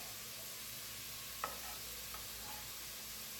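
Garlic dropped into hot oil with onions for a vegetarian tortilla soup gives a steady, faint sizzle, with a couple of brief stirring clicks in the middle.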